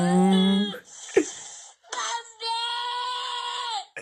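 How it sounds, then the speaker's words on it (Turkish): A voice in a played video shouts and wails loudly in long, strained, pitched cries, broken by brief pauses and a sharp burst. "Bağırma be."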